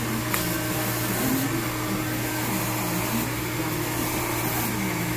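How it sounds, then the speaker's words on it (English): A Babyliss hair blow dryer runs close by with a steady, loud, unbroken airy roar and a low motor hum, holding an even level throughout with no talking. "The blow dryer uses a Babyliss. I love it because it really does dry very fast."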